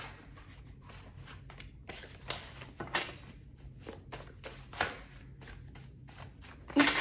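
A deck of tarot cards being shuffled by hand, with repeated crisp riffling bursts and soft slaps, close up, with no talking.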